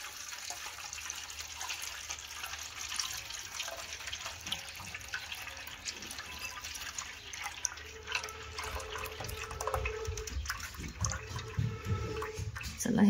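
Watery liquid is poured slowly off set colostrum milk, a steady trickling splash that runs throughout at moderate level under faint background noise.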